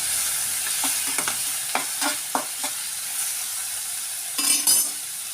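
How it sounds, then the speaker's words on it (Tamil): Small-chopped onions sautéing in a pan give a soft, steady sizzle, broken by several clinking, scraping spatula strokes against the metal as they are stirred. "இப்போ இந்த வெங்காயத்தை நல்லா வந்து வதக்கிக்கணும்"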